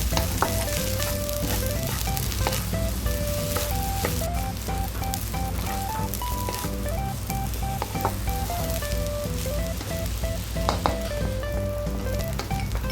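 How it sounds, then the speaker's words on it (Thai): Rice with Chinese sausage stir-fried in a pan, a steady loud sizzle with scraping stirring strokes running continuously over a constant background hum, no voices. "ข้าวผัดของเรา"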